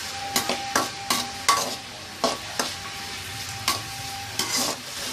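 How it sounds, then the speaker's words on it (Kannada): Vegetables for fried rice stir-fried in oil in a pan, heard as a rhythmic series of about a dozen sharp scraping stir strokes over a soft continuous sizzle, close and alone without talk. "ಸೊ ಇದನ್ನು ಎಣ್ಣೆಯಲ್ಲಿ ಒಂದು 3 ನಿಮಿಷಗಳ ಕಾಲ ಚೆನ್ನಾಗಿ ಫ್ರೈ ಮಾಡ್ತಾಯಿದ್ದೀನಿ."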